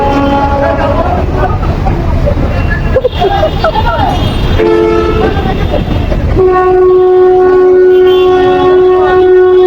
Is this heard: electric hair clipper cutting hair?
no